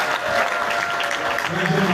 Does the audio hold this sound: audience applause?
yes